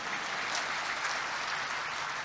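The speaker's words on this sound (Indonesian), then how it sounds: "Oh ayo tepuk tangan deh silakan" A congregation claps together during a church sermon, a dense, steady wash of applause filling the space for a couple of seconds with no voices over it.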